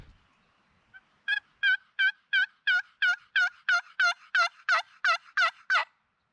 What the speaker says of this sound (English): We got two birds gobbling off to our right.